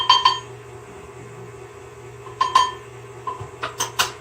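Chocolate chiffon cake batter worked together with flour in a bowl, heard as a few sharp clinks of a utensil against the bowl at the start and in a cluster near the end, separated by a quieter stretch.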